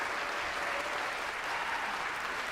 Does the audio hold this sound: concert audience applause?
yes